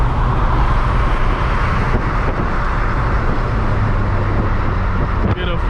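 A supercharged G37 driven hard under acceleration fills the cabin with a loud, sustained engine and road roar that holds steady throughout, without a break.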